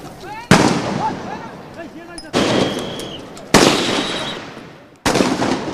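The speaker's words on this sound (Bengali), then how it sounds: "আশপাশে তখন মুহুর্মুহু গুলির আওয়াজ।" Repeated gunfire during a street protest in Dhaka: four loud, sharp reports spaced a second or more apart, each ringing out with a long decaying echo off nearby buildings.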